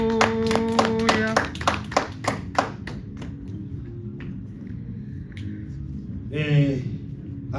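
A French-speaking church congregation claps in praise of the Lord, a burst of scattered hand claps that thins into a few taps, with voices and a shout rising over it near the end.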